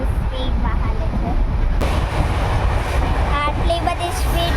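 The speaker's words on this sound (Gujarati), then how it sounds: "હું તમને દેખાડું છું કે અમારી ટ્રેન કેટલી સ્પીડમાં હાલે છે" Inside a passenger train travelling fast toward Nathdwara, a loud continuous rumble and rattle of the carriage fills the space, with a sudden shift partway through and voices faintly mixed in.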